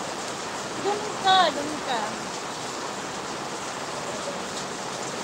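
Steady rain hisses evenly throughout, a soft continuous wash with no distinct drops, while a voice speaks briefly early on.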